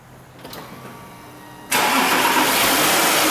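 A Volkswagen car engine cranks briefly and catches, jumping at once into a loud, steady broadband roar that holds to the end, heard close with no talking.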